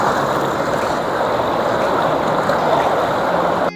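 A mountain river fed by glacier melt rushes in a loud, continuous broadband roar close by, steady throughout before cutting off abruptly at the end.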